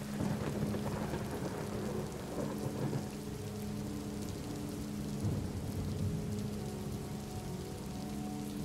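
Steady, dense rainfall hisses continuously while low, rumbling thunder rolls underneath, heavier in the first few seconds, with no voices present.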